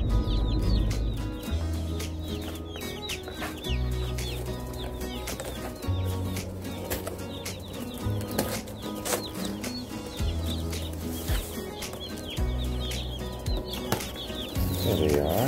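Cornish Cross chicks in a box give a dense, continuous chorus of high chirps and peeps, loud and close, with a sustained musical tone running underneath throughout.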